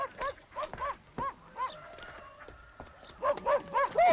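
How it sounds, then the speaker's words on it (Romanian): A dog barks repeatedly in short, rhythmic bursts, fairly close, with a few quieter barks in between and a denser flurry of yips at the end, heard in an indoor drama scene. "dar cui câinele ăsta?"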